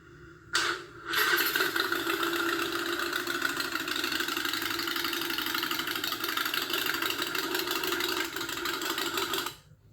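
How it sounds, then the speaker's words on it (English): A Harley-Davidson motorcycle engine idles steadily and loudly for about nine seconds, its uneven, lumpy rumble starting abruptly after a brief catch and cutting off near the end, with no talking over it. "Harley Davidson motorcycle engine sound?"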